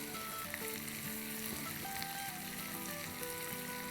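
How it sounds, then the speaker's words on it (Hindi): Spices and green chili sauté in hot oil in a pan for raita, a steady close sizzle and crackle running evenly throughout, with a faint musical tone beneath. "तो बस इससे सौटे करेंगे हम अराउंड"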